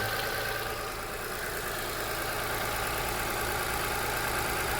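A 1.5-litre KR15DDT engine in a Nissan Rogue T33, damaged underneath near the heat exchanger, idles steadily up close with a faint repetitive ticking woven into the continuous mechanical drone and no talk.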